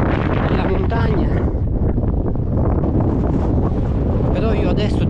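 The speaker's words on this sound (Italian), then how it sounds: "il vento è talmente forte" Strong wind on an exposed mountain trail near the summit approach, roaring loudly and continuously as it buffets the microphone, with no pauses.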